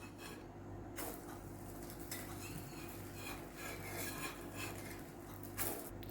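Small rice pancakes are flipped on a hot tawa griddle, with faint metal scraping and light clinks of a spatula against the pan, quiet and close.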